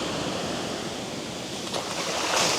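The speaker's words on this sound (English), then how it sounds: "Usually when big tankers pass by, they suck up water, so it gets really shallow, and then boom, a big wave comes through" A large wake wave from a passing tanker surges in at the Texas City Dike, a steady loud roar of rushing surf and wind buffeting close by, swelling slightly near the end.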